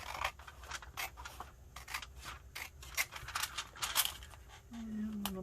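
Scissors trim paper for an altered envelope project, a quick series of close, crisp snips and rustles in an uneven rhythm, ending with a light scrape.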